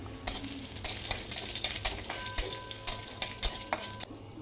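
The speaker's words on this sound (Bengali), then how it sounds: "ঘিটা গরম হয়ে গেলে এখানে যোগ করে দিচ্ছি থেতো করা গরম মশলা।" Crushed garam masala frying in hot ghee, with a steady sizzle broken by repeated clinks of a spoon or spatula against the pan, close and fairly loud.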